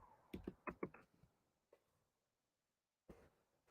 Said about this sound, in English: we hear a lot of sounds. Your typing sounds